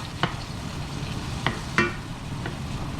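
A chopped shallot cooks down in a pan at a campsite, giving a soft steady sizzle punctuated by a few sharp clicks of a utensil against the pan.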